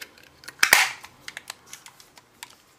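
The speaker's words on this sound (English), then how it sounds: "you might be able to hear the pin pierce the cartridge" Inside a Beretta 92FS .177 CO2 pistol, a pin pierces the CO2 cartridge with one sharp pop and a short gas hiss, followed by several faint light clicks and taps nearby.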